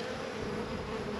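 Dense, steady buzzing of many honeybees at an open hive, a close, continuous drone with no talk over it.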